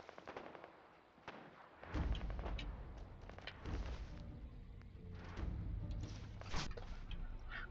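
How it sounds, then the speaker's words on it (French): Gunfire in the video game Fallout 4: a series of dull, booming shots and thuds spread across several seconds at mid distance, irregular bursts with heavier impacts around two and four seconds. "Ça tire, j'entends. Ça tire."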